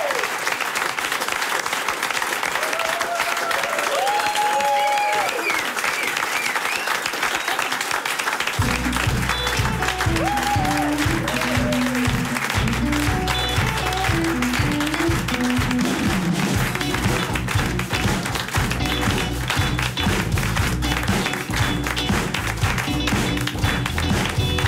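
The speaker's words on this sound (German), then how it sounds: "Wir helfen natürlich mit einem großen Applaus." Warm applause from a cellar-show audience welcoming a performer on stage, a dense continuous patter of clapping, joined partway through by rhythmic clapping along to music.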